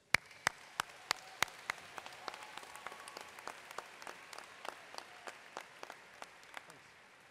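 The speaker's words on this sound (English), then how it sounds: "Please join me in applauding these special guests" Sparse, quiet clapping at a School of Management commencement ceremony, a handful of distinct claps spaced out at an uneven rhythm, heard from a distance in a large hall.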